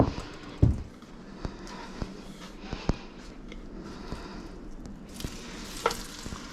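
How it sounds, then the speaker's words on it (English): Steady broadband sizzle of beef short ribs searing in a very hot pan at 550 degrees, with a few sharp clinks and pops scattered throughout, no voices. "And it's immediately sizzling."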